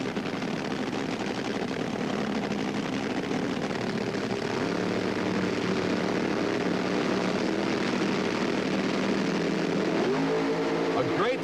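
Drag racing cars launch at the 1977 NHRA Gatornationals with a steady, far-off roar of nitro-fueled engines that rises in pitch near the end, heard over a continuous crowd and track background.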